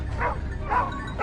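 Hunting dogs on a wild boar hunt in an Oklahoma forest give three short, yelping barks at close range, evenly spaced over a low rumbling background.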